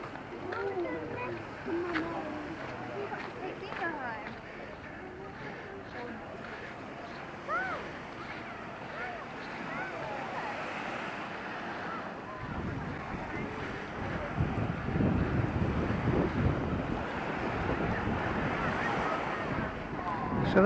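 On a seaside beach, steady wind buffets the microphone while surf rumbles underneath, growing louder and rougher over the second half.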